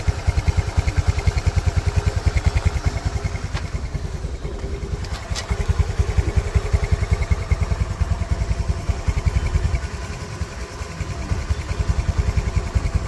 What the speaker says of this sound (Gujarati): જોઈ શકો છો એન્જિન ચાલુ થઈ ચૂક્યું છે આ વોઇસ નોઇસ એન્જિનનો સાંભળી શકો છો